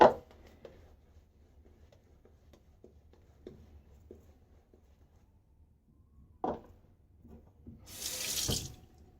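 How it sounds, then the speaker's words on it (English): Hot water from a bathroom tap runs into a sink during a wet shave, a brief gushing burst near the end after quiet small clicks and taps. "I am bringing some hot water into play to bring it up to tepid temperatures"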